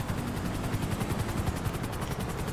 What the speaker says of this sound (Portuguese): Olha o helicóptero Águia dando suporte pra gente aí, pessoal.